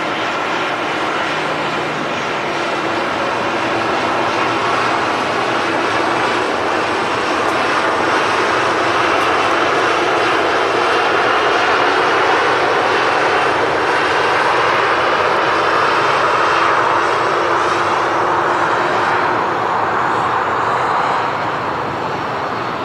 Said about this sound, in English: Just as the Sun Express 73800 taxis right past us here.